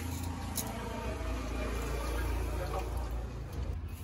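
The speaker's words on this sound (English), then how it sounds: "So right now I'm going to be adding in my water." Boiled water poured into a pot of twice-rinsed rice for Ugandan vegetable rice, a steady close liquid rush with soft splashing running throughout.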